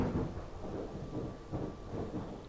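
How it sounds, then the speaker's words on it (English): Rolling thunder rumbling on a sunny day, a low continuous growl that swells and fades in slow waves with no voices over it. "sunny day and it's thundering out"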